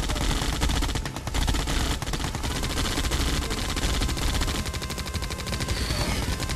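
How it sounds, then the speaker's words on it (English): A Gatling cannon fires in a Yuri's Revenge strategy game, a loud, continuous rattling stream of rapid shots running the whole time without a break. "He put a Gatling cannon in."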